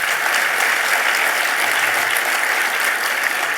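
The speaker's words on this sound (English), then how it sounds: "So please give them a very warm round of applause." Steady, dense applause from a large audience at a performing arts awards ceremony in New York, loud and continuous throughout with no pauses.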